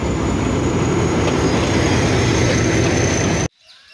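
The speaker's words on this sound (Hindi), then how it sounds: "और अभी हमारी ट्रेन इस पटरी पे आएगी।" A toy train arriving on a railway track at a station, a loud continuous rumbling of wheels on rails with a high metallic whine, no talk, cutting off suddenly near the end.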